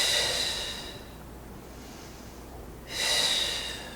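Slow, audible breaths during a level 1.5 Pilates hold, with a long steady exhale fading into quiet, then another strong airy breath near the end. The breathing is close, loud and alone, with no talk.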